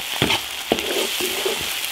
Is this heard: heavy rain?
no